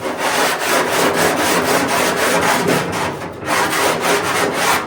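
Coarse 40 grit sandpaper scrubbing body filler on a VW Baja Bug, a loud, steady rasping in quick back-and-forth strokes with one brief pause partway through.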